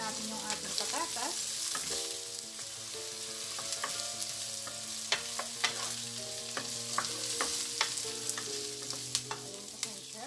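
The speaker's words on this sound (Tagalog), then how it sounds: "Halo na rin natin yung ating patatas." Diced potatoes and small squares of ham pan-frying with steady sizzle, stirred continuously with repeated scraping clicks of a utensil against the pan, close and fairly loud, no talking.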